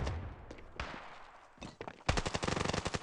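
Gunfire in the mobile shooter Standoff 2 during a pro league esports match: a few sharp single shots, then a rapid, loud automatic burst rattling out in quick succession.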